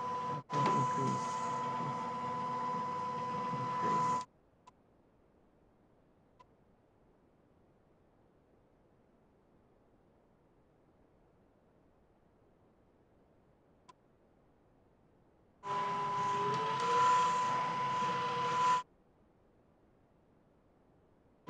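Small motors of a Raspberry Pi robot car whir in two separate bursts, about four and three seconds long, with near silence between them and no talking.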